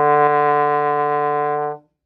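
A single sustained trombone note, D held in fourth slide position, rings steadily and close for nearly two seconds with a rich, brassy tone before cutting off cleanly, with no talking.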